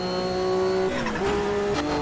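Race car in the Automobilista 2 sim racing game with a steady engine drone that breaks into a screeching tire skid and rough impact noise against barriers, loud and continuous with no talk.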